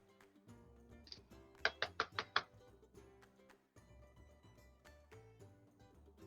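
Five quick, sharp knocks rap on a door at the end of a hallway, clustered close together in a steady rhythm over faint background ambience.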